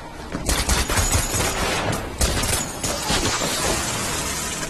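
Dense bursts of rapid gunfire from an action-film shootout in the Turkish-dubbed Mile 22, with loud, continuous crackling shots and sharp impacts filling the clip without a break.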